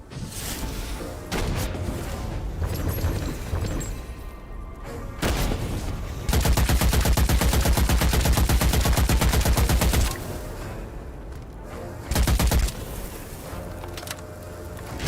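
Gunfire in the video game Witchfire: bursts of rapid automatic shots and single heavy booms, with a long loud sustained volley in the middle and shorter bursts before and after.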